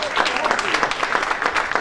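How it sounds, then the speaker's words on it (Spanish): Audience applause at the Premios Sustentar 2015 awards ceremony, a steady wash of clapping from a crowd filling the short moment, with a voice heard over it. "El aplauso va para Sabe la Tierra."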